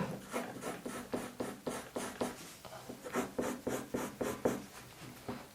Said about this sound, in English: I can take my grey lead pencil and draw back into that hair to put a bit more texture in